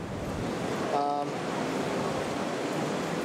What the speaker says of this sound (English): today is actually quite a windy day